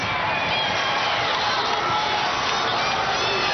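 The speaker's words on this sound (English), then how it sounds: "Crowd really into it." High school girls' basketball crowd at a state championship cheers loudly and continuously, a bright dense roar with shrill shouts and whoops throughout.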